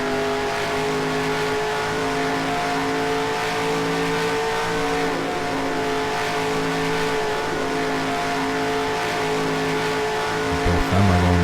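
A pack of race cars roars by in the NR2003 racing game, a loud, steady drone of several engines holding high revs together for the whole stretch, with no talk.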